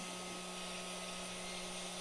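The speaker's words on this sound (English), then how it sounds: "I think it's even best when you actually touch the CPU with the hot air." A steady, close blowing hiss from a hot air rework station heating an iPhone logic board CPU, with a faint constant whine, running evenly throughout.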